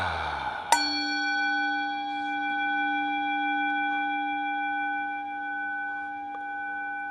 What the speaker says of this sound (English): allowing the vibrations of that gong to relax in, settle in